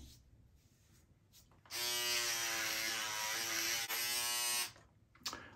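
A Remington F9 XF9000 electric foil shaver switches on and buzzes loudly and steadily for about three seconds, with faint handling noises before and after.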